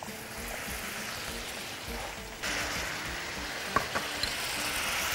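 Spinach is added to meat frying in a pan, giving a steady crackling sizzle that swells louder halfway through, with a few light clinks near the end.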